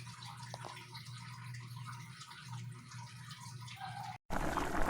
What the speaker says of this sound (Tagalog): ito ay ating ilalagay sa kaserola, lalagyan ng tubig at ating ilalaga